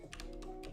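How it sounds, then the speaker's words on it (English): Brief quick typing on a computer keyboard, several light clicks in a fast burst over a quiet room hum. "let's just type in street light"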